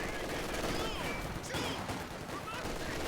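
MG42 machine gun fire in Company of Heroes 2, a continuous rattle of shots amid dense battle noise, with a voice talking faintly underneath.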